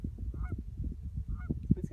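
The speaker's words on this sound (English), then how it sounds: "He's running after a clucking goose." Geese honk repeatedly on a goose hunt in a blizzard: short, nasal calls sound close by over a dense low rumble of wind.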